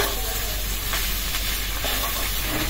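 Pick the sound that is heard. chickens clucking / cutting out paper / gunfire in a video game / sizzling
sizzling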